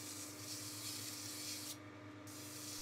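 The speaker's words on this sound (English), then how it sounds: "I'm going to use emery cloth to clean it up." Emery cloth rubbed steadily over the copper-plated underside of a metal chimney top cap, giving a continuous close abrasive scratching with a brief dip near the end.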